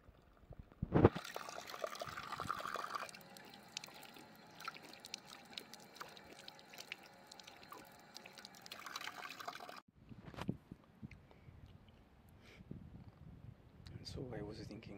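A fountain of clear water on a hot day trickles and splashes softly, a faint, continuous flow in the first half before a voice takes over, speaking over the quieter background.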